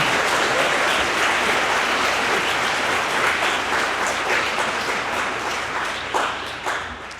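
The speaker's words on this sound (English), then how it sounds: "Let's give everyone a round of applause." Students and families clap for award recipients at an upper school honors convocation, a full, steady round of applause from a sizable crowd that gradually thins toward the end.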